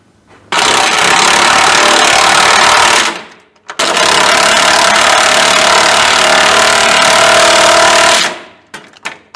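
A power tool drives bolts back into the cab of a 1985 Chevrolet C30 truck, two long, loud, continuous whirring bursts separated by a brief pause, ending in a few short blips.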